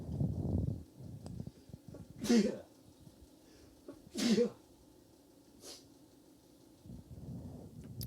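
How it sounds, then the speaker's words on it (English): Two sharp sneezes burst out a couple of seconds apart, close and loud, with a quieter sniffing sound after and some faint murmuring at the start. "I gotta sneeze."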